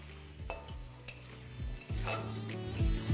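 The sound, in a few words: potatoes and sweet potatoes frying in panch phoron tempering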